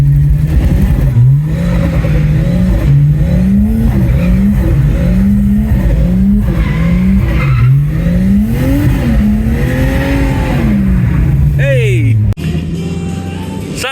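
An R32 drift car with a 1JZ engine revs hard and wavers through drift passes, a loud, continuous engine roar rising and falling in pitch, with a sharp cut near the end.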